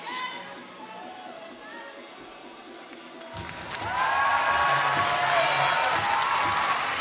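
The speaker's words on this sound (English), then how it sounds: "So a big cheer for the first appearance of England's contender" An arena crowd at the Glasgow 2014 Commonwealth Games men's 62kg weightlifting breaks into loud applause and cheering midway through as England's lifter appears, swelling from a quieter hall with a commentator talking over the noise.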